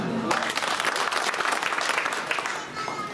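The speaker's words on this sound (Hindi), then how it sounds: "तालियां थोड़ी कम बजी।" Crowd clapping at a 2024 Lok Sabha election rally in Shadhaura, Guna-Shivpuri, India: dense, continuous applause from a large outdoor audience, steady and fairly loud throughout with faint voices underneath, easing slightly near the end.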